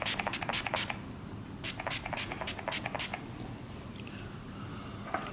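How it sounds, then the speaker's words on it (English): Makeup setting spray is pumped onto a face in short quick hissing bursts: a rapid cluster of four or five at the start, then another run of several in the middle, close and fairly quiet. "I go back in with my setting spray."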